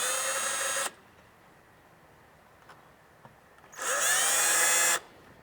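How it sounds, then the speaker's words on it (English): A power drill marks mounting holes on a boat hull through a transducer mounting block: two short, high-pitched whirring bursts of about a second each, separated by a quiet pause with faint ticks. "take your drill and just mark the holes."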